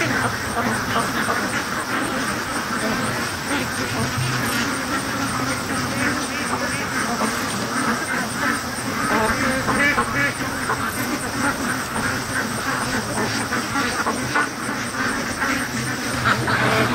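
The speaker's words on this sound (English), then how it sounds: "Every time the ducks just change their tone or their quack" Ducks being raised in a yard quack steadily and continuously over a constant outdoor background, a dense flock chorus that holds at an even level throughout, with no clear speech.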